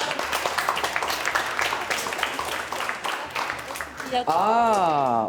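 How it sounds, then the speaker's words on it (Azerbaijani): Studio audience applause on a comedy show, a dense burst of clapping filling the first four seconds before giving way to a voice. "Alqışlayaq"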